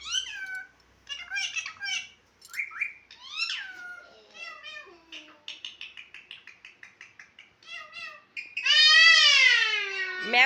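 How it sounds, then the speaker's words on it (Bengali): Cats meow again and again in high, wavering calls, some short and clipped, ending in a long loud drawn-out wail, with quiet gaps between. "ম্যাও ম্যাও করছে শোনা।"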